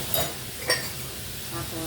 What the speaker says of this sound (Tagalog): nagprito kami ng turon.